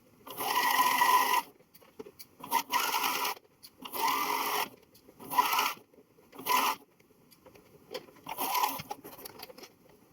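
A sewing machine stitches a collar onto a jacket in six loud, rapid mechanical bursts of one to two seconds each, separated by short pauses with quiet handling noises.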